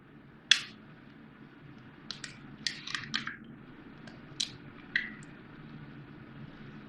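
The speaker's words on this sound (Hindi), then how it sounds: "सबसे पहले मैं अंडे तोड़ूंगी इसमें" Eggs are cracked into a bowl, one sharp crack followed by a cluster of quick taps, squishes and drips, quiet and close with no talking.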